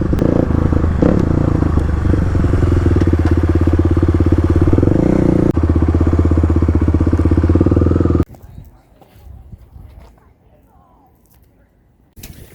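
A Stage 3 Kawasaki KLX351 dirt bike pulls wheelies on a beach, its loud near engine droning and revving for several seconds before dropping away abruptly to quiet background noise.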